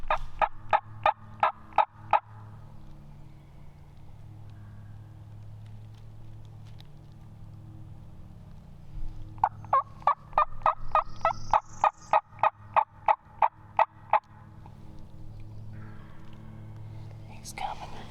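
Wild turkeys gobble in two bursts of rapid, rattling calls separated by a long quiet stretch. The birds sound moderately distant over a calm outdoor backdrop, and a soft whispering voice is present at times.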